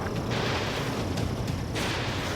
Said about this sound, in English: The railgun shell lost its target.